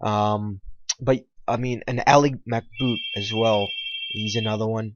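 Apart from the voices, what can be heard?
telephone ringing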